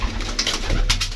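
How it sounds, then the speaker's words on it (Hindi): A pigeon coos softly up close, a brief low throaty call over steady background noise. "ये कबूतर है"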